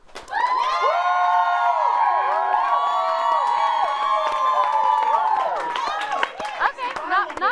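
A crowd cheers and shouts loudly to vote for a Face Off contest winner, a dense sustained roar of high-pitched yells and whoops that swells, holds, then breaks into scattered shouts.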